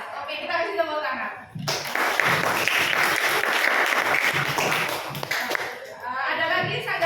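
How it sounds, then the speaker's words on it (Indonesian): A classroom group claps together in a loud, steady round of applause lasting about four seconds, with talking before and after it. "kita kasih tepuk tangan"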